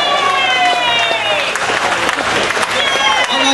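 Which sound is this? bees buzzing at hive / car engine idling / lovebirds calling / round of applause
round of applause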